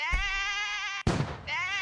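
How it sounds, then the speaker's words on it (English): Exploding sheep bleating in a video game, a loud wavering bleat, a sudden burst of noise, then the bleat resuming, close and dominant with no speech. "So many exploding sheep."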